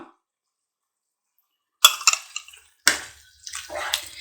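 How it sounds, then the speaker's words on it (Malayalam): Cornflour mixed into water poured into a boiling pan, coming after near silence as a few short liquid splashes and a brief trickle, close and moderately loud. "ഇനി നമുക്ക് ഇതിലേക്ക് കോൺഫ്ലോർ കലക്കിയത് ഒഴിച്ചു കൊടുക്കാം"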